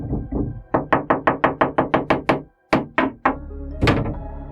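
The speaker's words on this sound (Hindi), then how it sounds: "कोई 3 इंसान लगातार दरवाजे खटखटा रहे हैं" Knuckles rap on a door in a loud, close sound effect: two knocks, then a rapid run of about ten, a short pause, a few more hard knocks and a final heavier thud.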